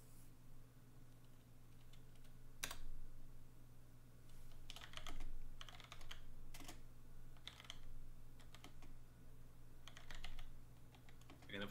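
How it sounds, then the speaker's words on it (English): Computer keyboard typing in bursts of quick clicking keystrokes, fairly close, over a steady low hum, with faint talk in the background. "I keep muting my mic intermittently so my keyboard doesn't just overwhelm the stream"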